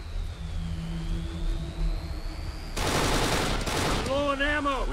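Gunfire rings out in the video game Kane and Lynch 2 during an airport firefight, a sudden dense burst of rapid shots after a quieter stretch of droning engine-like hum, fairly loud and close.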